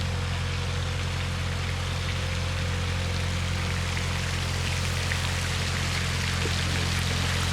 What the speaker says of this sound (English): What a weird little water feature.